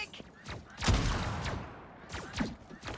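Gunshots in a video game come as several sharp, irregularly spaced cracks, some in quick clusters, at a fairly low level against a soft background.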